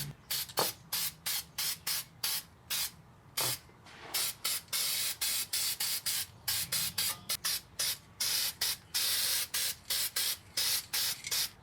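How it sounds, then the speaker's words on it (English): A rusty dust shield on a 1997 Ford F-150 gets a coat of spray paint, heard as a long run of short, close hissing bursts in a quick, uneven rhythm with brief gaps and no talking. "So let's clean up the rest of the rust, give this a coat of paint."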